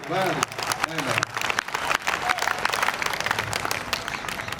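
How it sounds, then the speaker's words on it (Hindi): Audience at a corporate yoga session breaking into applause, a dense wash of many hands clapping at moderate distance, with a voice speaking over it near the start. "तालियां"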